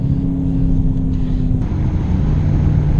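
A 2017 Dodge Challenger R/T engine drones steadily and loudly up close, with a tone that holds and then drops as it moves through gear shifts.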